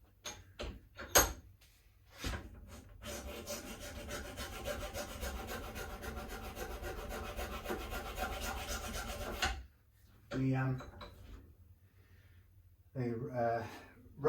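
A rasp filing the edges of a 1985 Made-in-Japan Fender Telecaster body, a steady scraping drone lasting several seconds after a few short strokes, then brief rasping bursts with pauses, up close.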